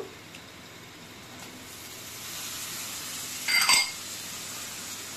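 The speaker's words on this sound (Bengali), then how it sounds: "আমি আগে একটু ভালো করে এটাকে নাড়াচাড়া করে নেবো।" Tomato masala with turmeric and salt stirred in a pan, a low steady sizzle throughout with a short, louder scraping burst near the end.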